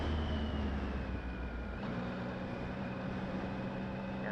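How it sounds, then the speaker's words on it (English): A Triumph Speed Triple R motorcycle's exhaust rumbles steadily while riding, a loud, continuous low engine drone with no talk over it. "The exhaust sounds great too, man. Listen to that. Listen to it rumble."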